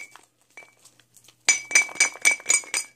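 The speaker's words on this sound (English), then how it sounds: "it's just making them bouncing that clanking noise." Silver bullion pieces clanking together, a few faint metallic clinks followed by a rapid run of bright ringing clanks, close and clear with no talk.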